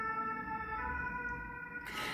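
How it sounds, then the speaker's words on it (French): A passing emergency siren wails steadily, a loud sustained tonal sound with no speech over it, cutting off abruptly near the end. "On va laisser passer la sirène."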